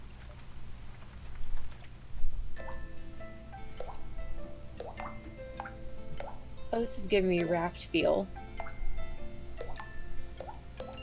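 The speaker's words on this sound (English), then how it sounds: "Yeah, the beautiful water droplets." Water droplets fall in The Book Walker game, soft scattered drips and plops spread across a quiet ambience while a person talks over them.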